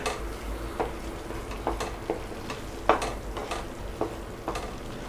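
Moong dal halwa being stirred in a pan: repeated scraping strokes of a spoon against the metal over a steady soft sizzle, close and fairly quiet with no talking.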